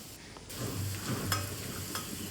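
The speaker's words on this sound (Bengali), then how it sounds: "এবার খুন্তির সাহায্যে মশলাগুলোকে একটু আলাদা করে ভেজে নিচ্ছি।" Spices, nigella seeds and crushed garlic, fry in hot oil in a pan for a cabbage dish, a close steady sizzle with the scrape of a spatula stirring, with no voices.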